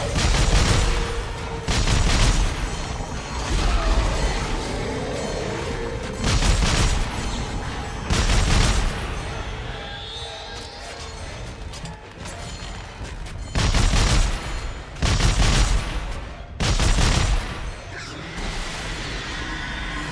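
Weapon fire in the sci-fi horror shooter Dead Space 3 comes as loud, repeated bursts of shots and booms at uneven intervals across twenty seconds, with rumbling game ambience between volleys.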